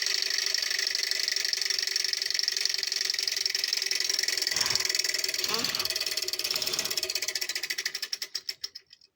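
A small alcohol-burner Stirling engine running with a fast, even mechanical ticking that holds steady, then slows into separate beats and fades out as the flame dies. A few faint knocks sound partway through.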